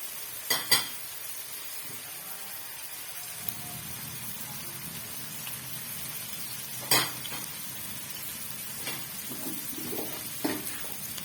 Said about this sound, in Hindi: सिर्फ फ्राई करना है, हल्का सा, ब्राउन नहीं करना